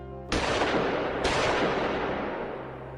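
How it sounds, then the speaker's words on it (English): Two sharp gunshots crack far off, about a second apart, each trailing into a long fading echo. "2 pops in the distance to their left, a clear and obvious sound of gunfire."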